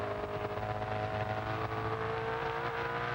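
An onboard Holden Commodore Group A touring car at Eastern Creek races hard, the engine screaming at high revs in a sustained, loud, steady howl.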